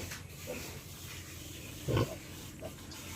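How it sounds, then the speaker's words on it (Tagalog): Pigs and piglets on a farm give low grunts under steady background noise, with one louder grunt up close partway through and fainter snuffles around it. "Dito rin may mga biig din. Daming biik mga prikoy."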